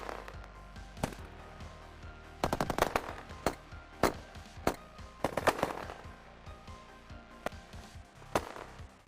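Gunfire in a desert battle in the Sahel, with scattered sharp reports and several rapid automatic bursts cracking at mid distance over a low rumbling background, the shots clustering in short volleys with gaps between them.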